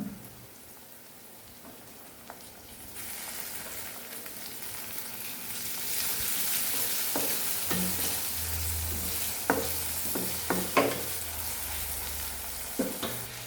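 Chopped tomato dropped into a hot, sizzling pan of oil for Kathiyawadi gathiya curry, the frying hiss swelling louder after a few seconds, with scattered stirring clicks and scrapes standing out near the end.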